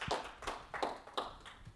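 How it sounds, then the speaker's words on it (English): Scattered applause from a small audience greeting a company CTO at a tech talk, a handful of separate claps in a loose, uneven rhythm, fairly quiet and close with no voices. "Give him a big round of applause, please."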